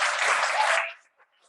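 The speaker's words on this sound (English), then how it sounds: "So yeah, round of applause" A short, bright burst of audience applause after a talk on the Bible and transgenderism, full and steady for under a second, then cutting off quickly to near silence with a faint clap or two.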